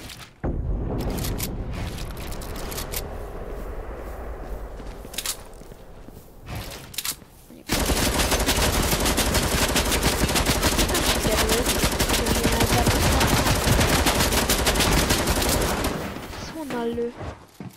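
Rapid automatic gunfire from a Fortnite match plays in dense, sustained bursts, a shorter stretch early on, then a loud continuous barrage for most of the second half, with a voice talking over parts of it.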